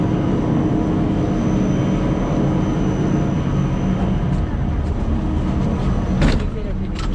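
Steady broadband rumble and wind noise aboard a ropeway cable car gliding above tea gardens in Darjeeling, continuous throughout with a few faint rattles near the end.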